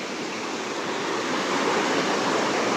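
A small village stream runs down toward a river, giving a continuous, even rushing of water close to the microphone, loud and unbroken with no voices over it.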